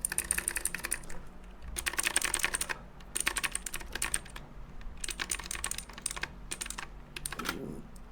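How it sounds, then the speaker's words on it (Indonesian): Bursts of fast typing on a mechanical keyboard with Aotemu Blue switches, sharp, bright clicky keystrokes in close-up clusters separated by short pauses, loud and noisy. "Nah kalau untuk Aotemu Blue suaranya kayak gini."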